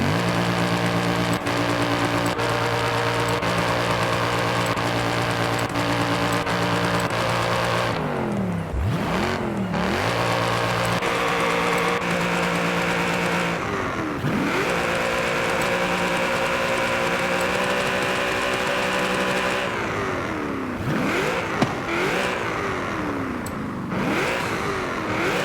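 A car engine in the Forza Horizon 5 upgrade shop idles with a steady hum, then revs up loudly several times, each burst of throttle climbing and falling back to idle, with no voices.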